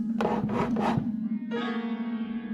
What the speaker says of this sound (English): That was when I heard a scrape on my living room floor.